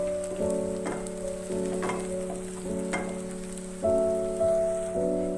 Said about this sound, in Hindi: थोड़ा सा फ्राई करेंगे इनको।